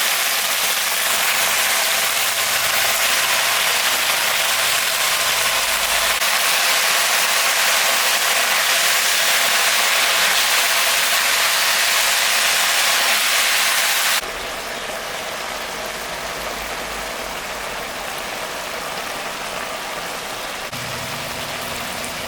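Fresh winter spinach hits a pan of curry for palong shaker ghonto, making a loud, even, hiss-like sizzle that drops to a softer, steady frying sound partway through.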